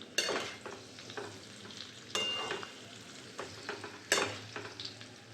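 Salt and turmeric stirred into something in a pan for pea kachori and aloo dum: three sharp scrapes of a spoon against the pan about two seconds apart, with a soft sizzle underneath and no talking.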